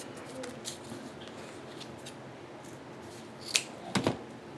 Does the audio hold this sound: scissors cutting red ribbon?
yes